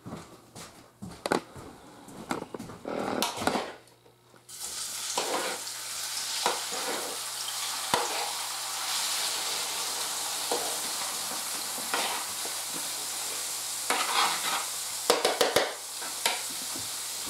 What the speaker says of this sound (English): So now I want to take this mixture, our stuffing, put it in there, saute it a little bit